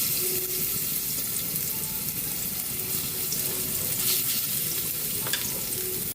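Garlic sizzling and frying in cooking oil in a pan, the start of a chayote sauté, a steady, continuous crackling hiss close by with no talk.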